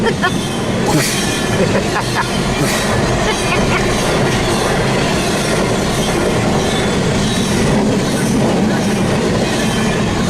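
BNSF intermodal freight train carrying Swift and Schneider trailers rolling past near Monolith in Tehachapi, a loud continuous rumble with rhythmic clickety-clack of wheels and faint squeal, close and sustained throughout.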